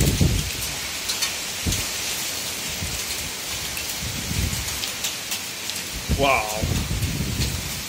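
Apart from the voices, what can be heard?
hail and rain with thunder in Oslo summer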